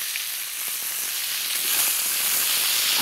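Continuous sizzle of zucchini frying in a pan with garlic and salt, a bright crackling hiss that grows slightly louder midway, no voices.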